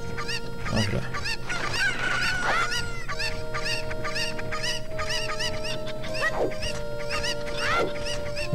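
Video game chickens clucking and squawking in The Legend of Zelda: Ocarina of Time, repeated overlapping calls over a looping background melody, with no talking.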